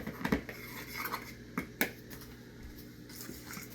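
Dry biscuit dough ingredients, flour with baking powder, being stirred in a bowl, with quick scraping strokes and a few clinks of utensil against the bowl, close and fairly quiet.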